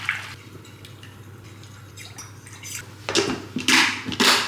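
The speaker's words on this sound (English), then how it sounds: "I'm gonna add 4 cups of boiling water and dissolve that." Boiling water pours from a kettle into a bowl of low-sugar grape jelly mix, starting with faint trickles and drips, then building into louder splashing streams near the end.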